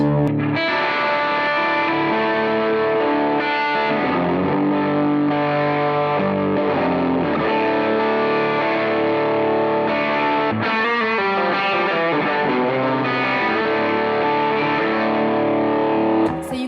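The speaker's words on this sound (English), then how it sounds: "here's a first example of using like an overdriven tone here" An electric guitar in drop D tuning plays chords with a thick overdriven, distorted tone, ringing continuously and loud with no voices.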